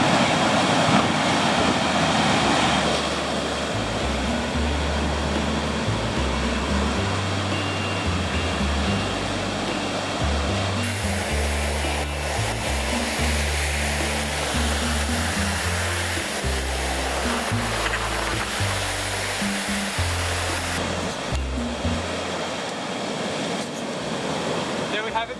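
Australian salmon fishing on Kangaroo Island, with heavy surf and white water breaking close by: a loud, continuous roaring wash that swells and surges throughout, with no talk.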